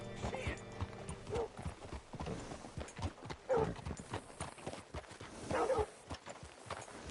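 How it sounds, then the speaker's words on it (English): Steady clip-clop of horse hooves trotting nearby in a video game, with a few whinnies and snorts over a busy outdoor ambience. "Hitch your horse up here."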